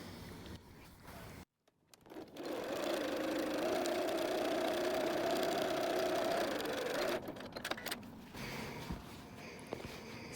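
A sewing machine top stitches across a messenger bag seam in a steady whirring run of about five seconds, with quiet handling before and after and brief speech around it.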